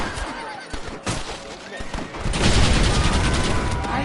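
Gunfire erupts in a Red Dead Redemption shootout, sharp shots early giving way to a dense continuous fusillade, with a horse whinnying and voices shouting amid the loud, close clamor.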